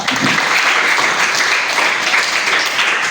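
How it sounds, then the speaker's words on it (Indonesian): A class of students applauds together at the end of a lesson, steady loud clapping filling the whole stretch without pause. "tepuk tangan dulu kita semua"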